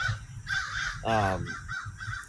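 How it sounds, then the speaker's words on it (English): Several crows caw from nearby in an outdoor morning setting, harsh calls recurring through the clip while someone talks over them. "entertain these crows, for one."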